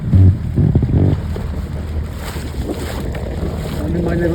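A small dinghy sails in strong wind, with heavy gusty wind rumble on the microphone and some water noise running steadily throughout.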